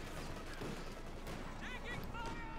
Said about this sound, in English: Machine gun, they got wiped.